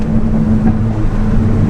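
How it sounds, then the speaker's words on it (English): A stage 2 tuned Ford Fiesta ST pulls hard under acceleration on an open road, its engine and exhaust a loud, steady droning roar with road rumble and no clear break across the whole stretch. "It does crackle a lot, so if I undo the window a little bit and drive through this section of the road here, put my foot down."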